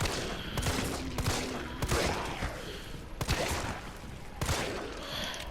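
Gunfire in the Resident Evil 3 video game, a series of sharp shots at uneven intervals across the stretch, loud and close over a busy background rumble.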